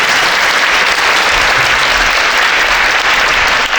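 Loud, dense audience applause fills a talk hall on DevOps and software quality, holding steady without a break for nearly four seconds.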